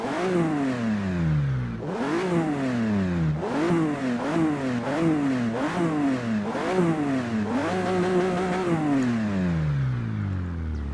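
Supercharged V6 of a 2015 Jaguar XE-S driven in the racing game Forza Horizon 3, revving up and shifting through gears again and again in a steady rising-and-dropping rhythm, loud and close with no talk.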